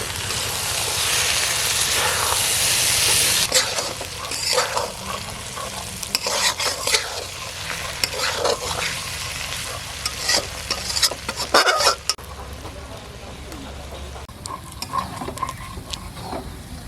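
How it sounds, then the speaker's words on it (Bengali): Fried shrimp stirred into taro stolons cooking in a pan, a loud continuous sizzle with repeated scraping and clinking of a spoon against the pan, no voices. "এখন এর ভিতর চিংড়ি ভাজাটা দিয়ে দেবো।"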